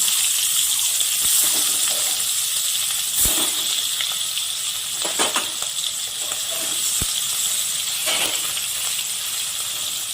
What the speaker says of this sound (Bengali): তেলটা আমার গরম হয়ে গেছে, এবার মাছটাকে দিয়ে দিচ্ছি।